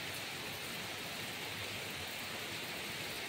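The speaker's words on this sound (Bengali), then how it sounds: "ফাইনালি আজ অনেক দিন পর বৃষ্টি পড়ছে" Steady rain, a long-awaited downpour, makes a dense, even wash of hiss with no distinct drops or voices, fairly quiet and unchanging throughout.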